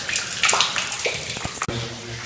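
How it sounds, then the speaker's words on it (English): Water pours steadily from a hole in the rock inside an abandoned mine, a close, continuous splashing and gurgling stream with no talk over it. "nice sources of water in this mine. It's coming from a hole right there."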